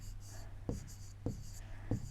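Writing on a board during a maths lesson: three evenly spaced marker or chalk strokes tap and scrape faintly at close range over a steady low hum, with no talk during the strokes.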